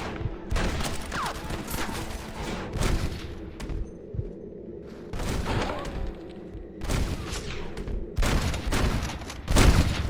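Repeated bursts of gunfire in a Red Dead Redemption shootout, loud and close, coming in clustered volleys separated by short lulls.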